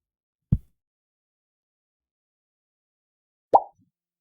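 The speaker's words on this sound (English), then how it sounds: "So here are the sound effects" Two short, isolated plopping blips from a video game being programmed, one low and dull, the next a few seconds later brighter and slightly longer, with silence around them.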